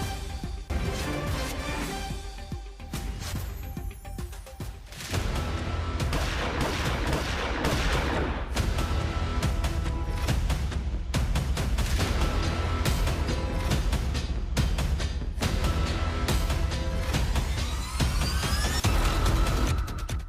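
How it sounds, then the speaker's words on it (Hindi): Rapid bursts of gunfire on CCTV at night outside a house in Delhi crack over a dense, noisy background, with a steady stream of sharp reports that rise in intensity after the first few seconds. "घर के बाहर बदमाशों ने फायरिंग की।"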